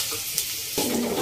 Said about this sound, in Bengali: তো পেঁয়াজ দিয়ে দিয়েছি, পেঁয়াজটা একটু ভাজা হলে পরে আলুটা দেবো